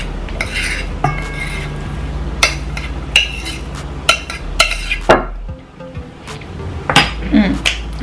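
A spoon clinks and scrapes around a bowl while cinnamon and beans are stirred together, with irregular metallic taps over a steady background hum.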